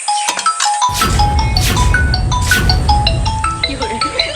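A phone ringtone plays a bright, repeating melodic tune loudly and continuously, with tinkling electronic tones over a steady backdrop.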